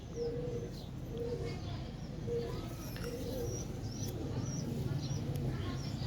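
Pigeons coo softly in low, repeated pulses over a steady background murmur, with faint chirps scattered above.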